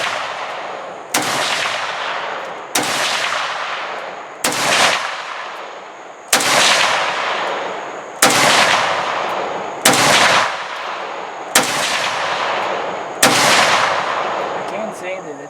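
A SIG SG551 rifle firing 63 grain ammunition: eight loud, close shots spaced about every one and a half to two seconds, each sharp crack trailing into a long echoing decay.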